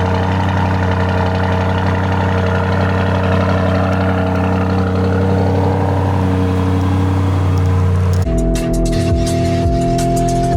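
A Ferrari engine runs steadily with a deep, even hum that shifts abruptly to a different tonal pitch near the end, loud and close with no talking.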